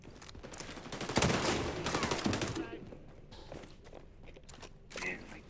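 Gunfire rattles in the XDefiant shooter, a dense burst of shots followed by sporadic fainter cracks and footsteps, with a player talking over it.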